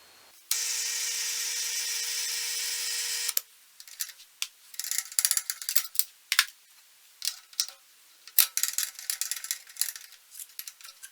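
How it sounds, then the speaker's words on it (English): A steady high milling machine whine runs for about three seconds, then stops, followed by irregular scraping and clicking as it drills a hole in a metal steam engine crank web, fairly close and no talking. "then I will drill and ream the hole"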